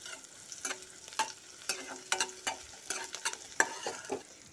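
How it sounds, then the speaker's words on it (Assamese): Chopped onions fry in a pan in a home kitchen, with repeated sharp scraping strokes of stirring over a faint sizzle, close and moderately loud. "এইখিনি পিঁয়াজ দিলোঁ দেই। এইখিনিও এতিয়া এনেকৈ ভাজি ল'ম।"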